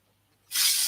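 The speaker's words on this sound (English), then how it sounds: "spray glue," A can of spray glue, used for double-sided glitter, starts with a sudden loud, steady hiss after a moment of near silence, close and continuous.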